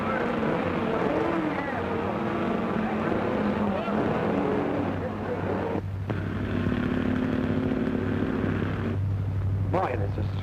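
A 1930s car being driven, its engine a steady continuous drone with road rumble throughout, while people talk over it.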